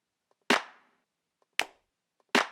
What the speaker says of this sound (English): Let's pick a clap.